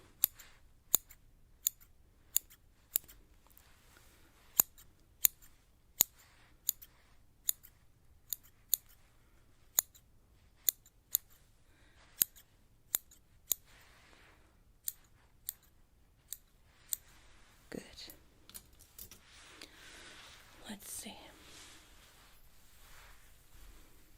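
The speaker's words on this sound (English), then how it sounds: "So I take most of the hair, just go trimming." Scissors trimming split ends of hair in a beauty salon, a slow series of about twenty crisp, close snips at an even pace, then softer rustling of hair near the end, with no talking.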